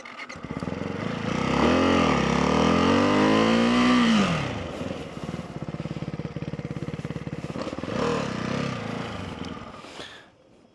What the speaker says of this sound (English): First gear slow wheelie.